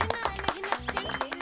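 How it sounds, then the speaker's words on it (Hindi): Several people clapping their hands in a quick, fairly even rhythm of sharp claps over a short burst, fairly close, with a voice briefly mixed in. "ताली बजाओ।"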